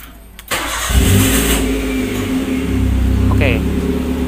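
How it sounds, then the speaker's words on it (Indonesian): A first-generation Toyota Avanza with an aftermarket keyless push-start button cranks and catches, then settles into a steady, close engine idle with a brief chirp near the end. "sudah bisa berhasil di starter"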